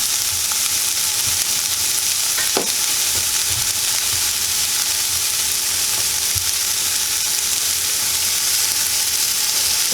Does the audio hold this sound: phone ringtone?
no